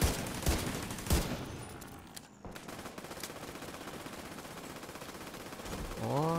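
Gunfire in The Division 2, sharp shots near the start with a steady rattle of distant fire running throughout and a growing rumble at the end.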